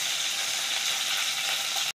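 Curry leaves sizzle sharply in hot oil, a steady crackling hiss for about two seconds before cutting off abruptly.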